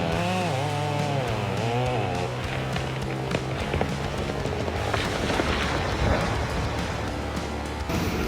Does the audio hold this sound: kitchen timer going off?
no